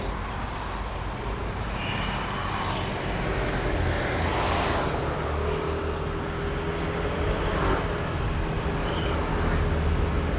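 A car rolls steadily along a road, its broadband road and engine noise holding at an even, moderately loud level throughout with no distinct events, and no voices come through.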